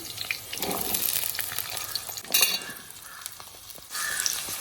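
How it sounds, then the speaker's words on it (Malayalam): Small shallots sautéing in coconut oil in an urli for Kerala-style mutton kurma, a moderate sizzle broken by stirring scrapes and brief louder bursts, heard alone without speech. "അപ്പോൾ ഇത് ഇനി ഒരു പത്ത് മിനിറ്റ് വാട്ടിയെടുക്കണം ഈ ചെറിയ ഉള്ളി"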